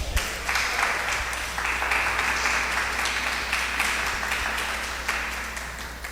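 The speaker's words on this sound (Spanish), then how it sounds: "¿Pueden darle a Dios un aplauso de alabanza?" A church congregation gives sustained, dense applause of praise, a steady wash of many hands clapping at even loudness that fades slightly toward the end.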